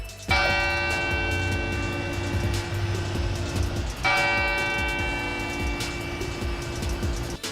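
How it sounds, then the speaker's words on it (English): Large bells of San Fernando Cathedral ring continuously and loudly for one minute, two heavy strikes setting off long overlapping resonant tones that hum and shimmer throughout, with no voices. "The bells at San Fernando Cathedral rang this morning for 1 full minute"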